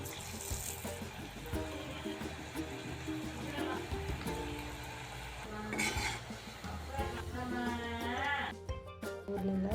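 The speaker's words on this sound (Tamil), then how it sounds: "உருட்டி வச்ச எல்லா உருண்டையும் பொரித்து எடுத்துக்கலாம்." Balls of sweet potato gulab jamun fry in hot oil with a steady sizzle, stirred around the pan with occasional utensil scrapes, while someone speaks over the cooking sounds.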